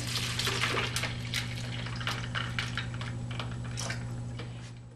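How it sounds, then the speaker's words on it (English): Distilled water poured over ice in a pitcher while preparing a cold water base for soap making, a steady close splashing with crackly spatter and ice clinks, under a constant low hum. "I'm just going to add some distilled water."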